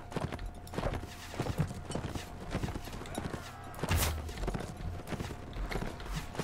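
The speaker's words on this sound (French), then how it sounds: "j'ai l'air de juguler la charge de cavalerie" Cavalry horses charging in the Mount & Blade video game, hooves clip-clopping in a fast continuous patter with occasional whinnies, mixed under battle noise and someone talking.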